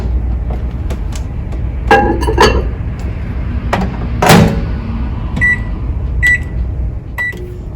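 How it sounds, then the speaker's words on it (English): A kitchen microwave oven heating mac and cheese hums steadily with a low drone, punctuated by several sharp clicks, taps and short beeps near the end, close and fairly loud with no talking. "Now we're going to pop this back in the microwave for 60 seconds."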